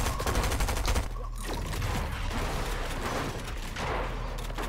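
Rapid gunfire rattles in a Fortnite match, a dense fusillade of overlapping shots at moderate volume running steadily with only a brief lull, no talk over it.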